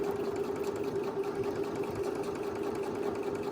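A sewing machine runs steadily, stitching along the edge of fabric for a face mask, with an even mechanical hum and rapid needle chatter at low volume, no voices.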